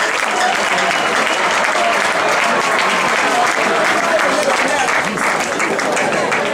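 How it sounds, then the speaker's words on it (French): University students applaud their student coordinator during a faculty visit, sustained dense clapping filling the room at steady loudness throughout. "Est-ce que vous pouvez acclamer s'il vous plaît?"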